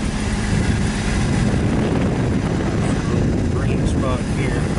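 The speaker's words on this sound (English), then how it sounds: "Gonna get a little wind noise from the air coming through the vent" A continuous rushing whoosh of air from a 2008 Kia Spectra's AC vent fills the space, loud and steady, with a low engine hum underneath.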